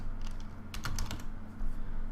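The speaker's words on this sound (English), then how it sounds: "I'm going to type in AL hair over on the side." Keys clatter on a computer keyboard in a short burst of quick taps near the middle, with a few lighter clicks before and after, over a quiet steady hum and no talking.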